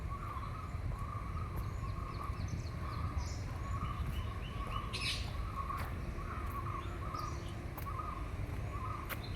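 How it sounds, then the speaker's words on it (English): Birds chirp and call in Cubbon Park, a repeated mid-pitched call in a steady rhythm with occasional higher tweets, set against a constant low hum of distant city noise. "The birds will be chirping around."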